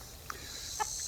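Bielefelder chickens on a small farm give two brief, soft clucks a half-second apart, quiet and somewhat distant against a faint outdoor background.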